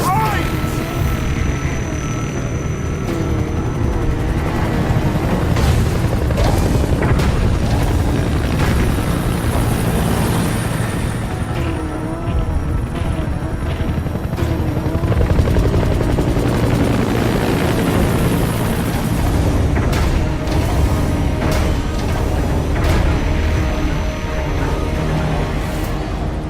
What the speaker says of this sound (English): helicopter requested